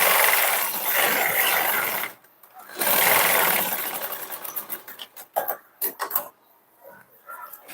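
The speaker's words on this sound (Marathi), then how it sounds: "इकडच्या साईडने पण पलटी करून याला आपण इथं शिलाई मारून घेऊया" A sewing machine stitches a blouse seam in bursts, its rapid mechanical whir running close and loud, then stopping and restarting in short runs.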